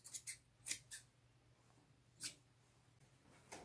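Scissors trim yarn ends on a braided boho belt, giving a handful of crisp, quiet snips close by, two quick pairs early, then single cuts separated by near silence.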